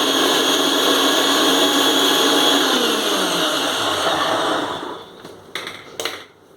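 An electric mixer grinder whirs loudly and steadily while grinding green fish curry paste of chilli, shallots, salt and turmeric, then winds down, followed by a few clicks and knocks.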